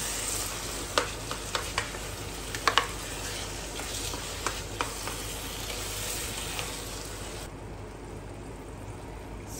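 Pav bhaji being mashed and stirred in a frying pan, with a steady sizzle and scattered scraping clicks of the utensil against the pan, fairly close and continuous with no talk.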